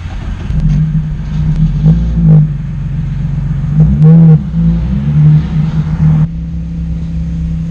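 Nissan 350Z engine idling with a steady low rumble and a few brief revs, then the note drops abruptly near the end as the car stalls with its oil light on and a fuel smell.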